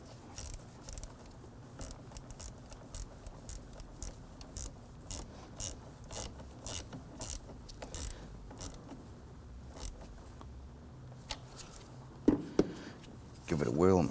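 Ratchet clicking in short repeated bursts while snugging down the ground terminal on a 2008-2011 Ford Focus battery, close and crisp, with a louder clatter near the end.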